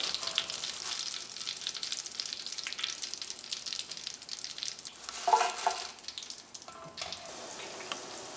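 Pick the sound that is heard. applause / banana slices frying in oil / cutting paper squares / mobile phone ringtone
banana slices frying in oil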